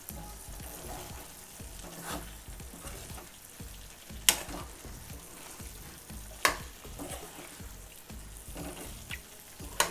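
Mutton pepper fry sizzles steadily in a pan, a continuous crackling hiss broken by occasional sharp scrapes and stirring knocks, close and moderately loud with no talk.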